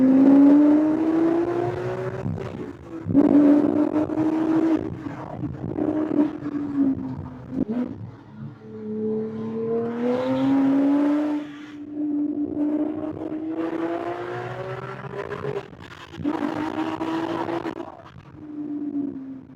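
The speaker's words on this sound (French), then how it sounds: "Et on ouvre l'échappement." A Porsche 997 GT3 engine with its exhaust valves open roars loudly as the revs climb and drop in several long sweeps, with a strong, sustained note and no voices over it.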